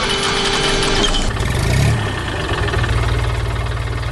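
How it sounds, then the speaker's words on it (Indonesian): Red tractor hauling hay on a farm, its engine running loud and close with a steady low rumble that briefly swells, then settles into an even chugging idle. "Traktor merah sedang membawa jerami ke tempat yang sudah disiapkan. Suara mesinnya menggelegar"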